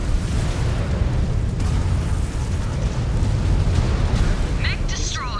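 A mech blowing up as it is destroyed in the MechWarrior 5: Clans video game, a loud continuous rumbling blast filling the whole stretch, with a brief synthetic electronic tone near the end.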